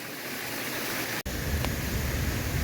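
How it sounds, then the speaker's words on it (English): Ribbon Falls waterfall at Greylock Reservation, water crashing steadily as a dense, continuous roar, close and loud, with one brief dropout partway through. "the sound of crashing water greets us as we finish this adventure"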